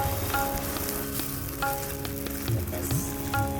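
A thick rava dosa frying in ghee on a pan, a steady close sizzle with faint scraping and light clicks of a spatula as it is flipped, no talking.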